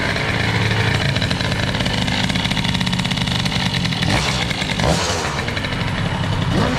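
Peugeot 103 moped fitted with a Stage6 Mk2 air-cooled kit and reed valve intake warming up, its two-stroke engine droning steadily and loud close by, with slight rises in revs.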